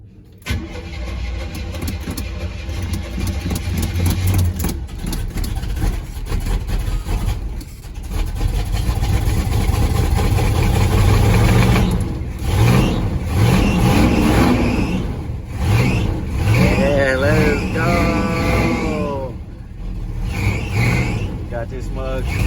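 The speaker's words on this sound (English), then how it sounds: "as y'all can hear, we got her started" A Chevy squarebody truck engine cranks, catches and keeps running with a rough, loud idle and revving, while someone talks over it throughout.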